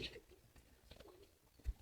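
Soft, low pigeon cooing, quiet and intermittent, with faint background noise around it.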